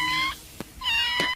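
A voice imitates a cat meowing during a recited Hindi children's poem, giving two drawn-out, tuneful meows separated by a short pause, close and clear with no other talk.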